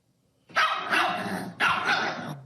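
A dog on a daytime talk show barks loudly twice in close succession, each bark a rough, growling burst, with no talk over it.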